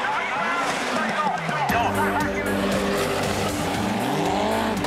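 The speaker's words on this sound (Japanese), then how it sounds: "SS5 マキネンのランサーはオイルの乗った左コーナーで突然グリップを失う。" Mitsubishi Lancer rally car in the 1998 WRC loses grip on an oil-covered left corner, its engine droning with rising and falling revs and tyre noise, under steady commentary.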